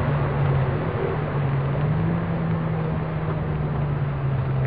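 A Rover 220 Ti hatchback driven hard around the Nürburgring circuit, heard as a steady, continuous engine drone from inside the car, with no talking.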